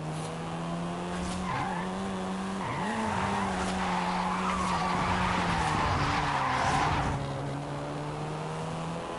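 A seventh-generation Volkswagen Golf R drives in the Forza racing game, its engine holding a steady tone with pitch dips while the tires skid and squeal loudly through most of the stretch, no voices.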